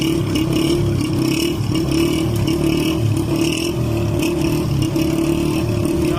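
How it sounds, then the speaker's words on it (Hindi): A Honda CG125 motorcycle engine revs steadily and loudly during a wheelie, a continuous close roar with slight rises and dips and some mechanical clatter throughout. "क्लच छोड़ने के बाद हल्का सा एक्सीलेटर दिया है, एक्सीलेटर दे के मैंने क्लच छोड़ा है"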